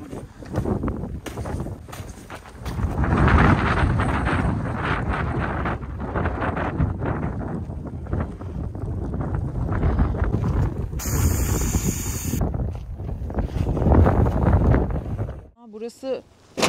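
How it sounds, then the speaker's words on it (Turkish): Strong, cold stormy wind buffets a microphone outdoors at a tent pitch among trees, roaring in loud gusts while people talk over it. "Burası ağaçların arasında kalmasa nasıl esiyor ya?"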